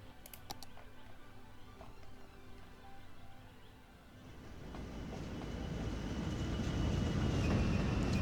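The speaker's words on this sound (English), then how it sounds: "Oh my god, that train is so long." In the city-building game Cities: Skylines, a long train runs past as a low rumbling roar that swells steadily louder over several seconds after a quieter start with faint clicks.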